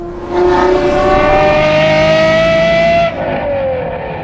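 A manual Aston Martin V12 engine roars loud and close, its pitch climbing steadily through the gear for about three seconds, then dropping sharply and sliding lower as revs fall off.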